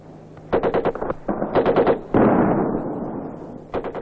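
Live gunfire crackles over a military training exercise, with bullets flying overhead: rapid bursts of automatic fire in quick clusters, loud and close, separated by a sustained roaring blast and then a final short volley.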